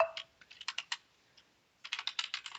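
Fingers typing on a computer keyboard while writing Java code: two quick, close bursts of clicking keystrokes separated by a short pause, with no voice.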